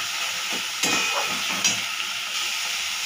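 Boiled pieces of watermelon rind fry in plenty of oil with mustard seeds and dried chilli, giving a steady close sizzle with a few brief stirring scrapes over it.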